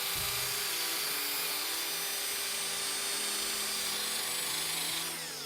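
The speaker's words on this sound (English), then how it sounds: "I just use a small drill with a little wire brush attachment." A small drill spins a wire brush attachment to scour dirt, sand and powder coat debris from a truck's swing arm bearing area, a steady loud high-pitched whir with grinding scrape running continuously before easing off at the end.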